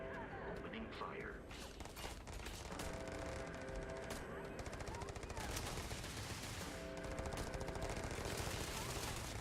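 Rapid automatic gunfire in the video game Starfield, a dense, unbroken chatter of shots and mechanical clatter that stays loud for the whole stretch with no pause.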